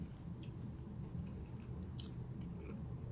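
Close-up chewing of a beef stew with soft potatoes and crunchy celery and carrots, heard as faint moist mouth sounds over steady low background noise, with a few brief crisp crunches and no talking.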